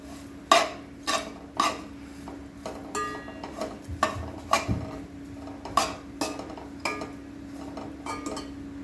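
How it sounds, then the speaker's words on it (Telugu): Grated coconut dry-frying in a pan while being stirred for coconut laddu: a run of sharp clinks and scrapes from the spoon striking the pan, irregular and close, over a steady low hum. "3 కప్స్ కోకోనట్ తురుముని వేసుకోవాలి. వేసుకొని దాన్ని మనం ఫ్రై చేసుకోవాలి."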